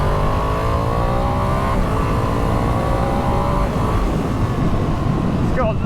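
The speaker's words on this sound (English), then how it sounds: "Oh, it's so nice, that engine, when it spools up." A Ducati Streetfighter V2 motorcycle engine spools up, its smooth, rising revs loud and continuous up close, with a faint voice talking over it.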